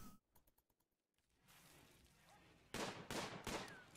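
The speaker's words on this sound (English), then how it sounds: "somebody's out there shooting a gun" Gunfire in the video game Rimworld: a few quiet clicks, then a soft burst of noise and two louder, sharp bursts of shots near the end, brief and fairly faint overall.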